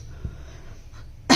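A child gives a single sharp cough right at the end, short and close, after a quiet indoor stretch with a faint earlier throat sound.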